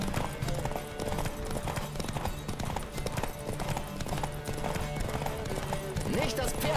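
Galloping horse hooves in a horse race in the video game The Witcher 3, a steady rapid clip-clop running throughout under music and game sounds, with talking over it.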